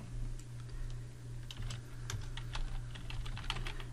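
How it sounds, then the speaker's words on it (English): Rapid typing on a computer keyboard while filling in a web form, a steady run of close, crisp key clicks heard alone. "I'm just going to type"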